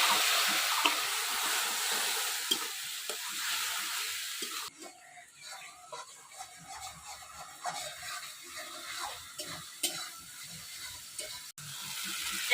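A splash of water goes into spices frying in oil in a pan for a traditional Bengali village dish. A bright hiss and sizzle comes first and then settles into softer bubbling with scattered stirring scrapes, close up and with no talk.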